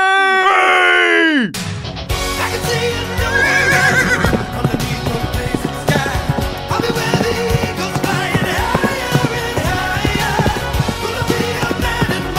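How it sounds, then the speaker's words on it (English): A horse lets out a loud, drawn-out whinny, then hooves clatter along under music and excited voices for the rest of the stretch. "And he turns into a horse."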